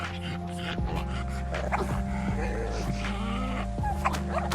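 A playful dog yips and barks in short bursts, loud and close, over a steady low mechanical hum with a few quiet voices underneath.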